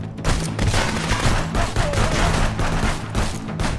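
Gunfire in the police video game Contraband Police: dense, continuous bursts of shots and booming impacts fill the whole stretch at steady loudness, with no pauses.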